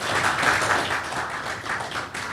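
Audience applause at a political activists' meeting, a steady patter of many hands clapping together for a couple of seconds, moderately close and unbroken.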